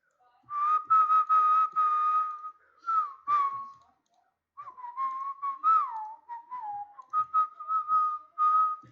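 A person whistles a melodic tune in clear, sustained phrases with a short pause midway, close and fairly loud.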